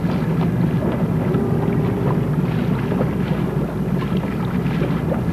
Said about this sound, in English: 18 gaff-rigged schooners set sail for Rockland Harbor.